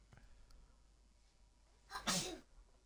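A single sharp sneeze bursts out near the end, loud and close, after a few seconds of quiet room noise.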